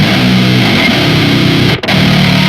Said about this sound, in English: I'm going to use this multiband fuzz in Cubase, and let's just destroy the high mids and add a little bit of distortion in the highs